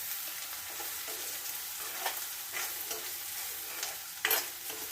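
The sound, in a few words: stirring liver roast frying in a pan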